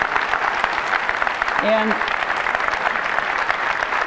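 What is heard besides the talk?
audience applause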